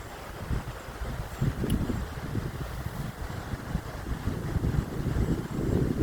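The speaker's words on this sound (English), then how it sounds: "It's a nice breezy day here" Steady wind buffets the microphone on a breezy day at a secluded hillside pond in the Adirondacks of upstate New York, a continuous low rumble with gusts swelling and easing throughout, no voices.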